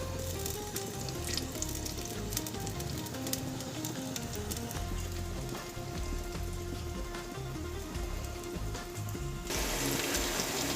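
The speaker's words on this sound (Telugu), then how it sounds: "ఒక కప్పు ఆయిల్ వేసుకొని మంచిగా ఉల్లిగడ్డలను మంచిగా వేయించుకోవాలి" A cup of oil with onions fries in a clay pot for egg dum biriyani, a loud, dense and continuous crackling sizzle like heavy rain that swells slightly near the end.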